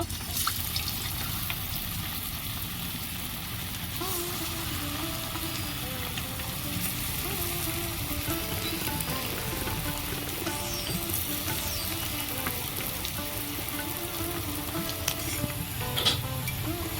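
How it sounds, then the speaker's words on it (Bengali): Vegetarian mock-fish pieces frying in hot oil, a loud, dense, continuous sizzle with occasional bubbling bursts and light utensil clinks, close up and without talk. "তেল গরম হয়ে গেছে মাছের পেটিগুলো ভেজে নেব"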